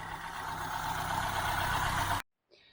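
Car engine and exhaust running during a road test after an engine build, a loud steady broadband roar with low droning tones that cuts off abruptly, followed by a brief quieter sound.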